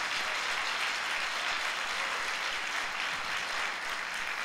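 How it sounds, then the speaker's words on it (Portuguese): Steady congregational applause during a church service, a dense, even wash of clapping from many hands that holds at a constant level throughout with no voices on top. "Então dá um aplauso ao Senhor Jesus."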